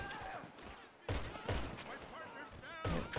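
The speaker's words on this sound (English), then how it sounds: "So, got my automatic rifle here, nice and easy headshots." Bursts of automatic rifle fire in GTA V during a prison contract mission, several sharp clustered volleys separated by short gaps, loud and close over a background of game sound.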